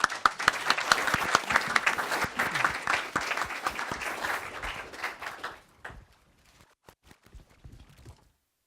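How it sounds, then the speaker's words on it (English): Panel audience at a keynote event gives a round of applause for the speakers, dense clapping that runs for about five seconds and then thins out into scattered claps. "I actually wanted to give a round of applause for all the speakers we had today"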